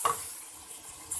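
Chicken liver roasting with garam masala and dry spices in a pan produces a faint, low sizzle with soft stirring scrapes, quiet and intermittent throughout, with a brief louder burst at the start and near the end.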